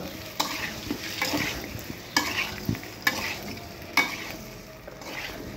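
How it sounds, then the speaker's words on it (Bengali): Potatoes stirred and fried in hot oil, a close, constant sizzle broken by regular sharp scrapes and knocks of the spatula, with no voices. "আলুগুলো আবারও নেড়ে চেড়ে কিছুক্ষণ ভেজে নামিয়ে নেব।"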